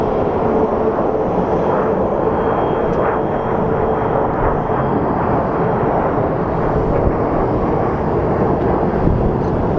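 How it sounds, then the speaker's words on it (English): Airplanes taxiing at Phoenix Sky Harbor International Airport, a loud continuous roar of aircraft engines filling the whole stretch without a break, steady and close. "as more planes are pulling up for departure."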